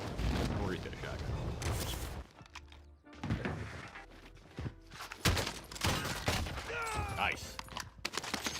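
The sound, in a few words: gunfire in the video game Call of Duty Vanguard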